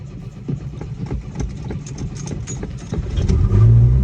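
A Chevrolet Chevette engine cranks, sounding as a steady low mechanical chug with quick repeating knocks, then rises and swells louder near the end as it catches, heard close with no talking.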